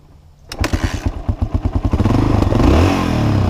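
A Yamaha XT 350 dual-sport motorcycle with stock exhaust starts after silence, firing in a fast thumping single-cylinder rhythm before settling into a steady, loud close-up idle.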